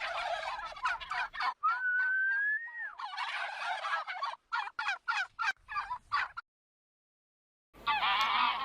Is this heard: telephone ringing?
no